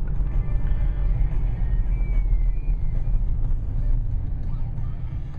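A 2013 Dodge Charger R/T Plus Hemi on its stock exhaust drives through snow, giving a deep, steady, loud engine rumble heard from inside the car that holds constant and eases slightly at the end.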